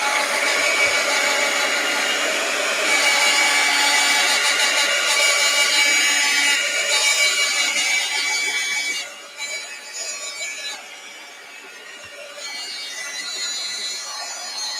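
A hair dryer blows steadily on freshly painted paper at a paint party, a loud continuous whir that drops a little in level partway through and keeps running to the end.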